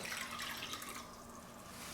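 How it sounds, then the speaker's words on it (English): A cup of water pours into a small mixing bowl for a homemade teriyaki sauce, a short, close, steady splashing stream. "First we want 1 cup of water,"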